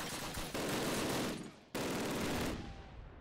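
Two long bursts of rapid machine gun fire from the 2003 Call of Duty game rattle out close and loud, separated by a brief pause, the second burst trailing off at the end.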